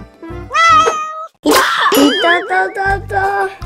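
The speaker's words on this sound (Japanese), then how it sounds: "かわいい猫ちゃん" A cat meows loudly and close by, giving a few drawn-out, wavering meows with short gaps between them.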